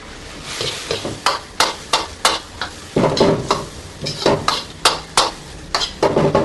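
Stir-fried noodles with bitter melon and a white sauce are tossed in a pan. Sharp scraping stirs repeat in a steady rhythm over a continuous sizzle, close and fairly loud, with no voices.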